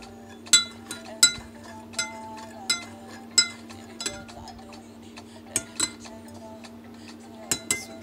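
Homemade body butter being stirred in a container, giving a string of sharp utensil clinks and taps against the side, about a dozen spaced hits at an uneven pace over a steady low hum.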